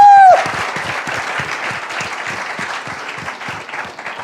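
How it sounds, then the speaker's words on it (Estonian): An audience at a student company awards event gives a supervisor a burst of steady clapping that stays dense and fades slightly over four seconds, and a brief tone sounds at the very start. "teeme sulle ka suure aplausi suurepärase juhendaja"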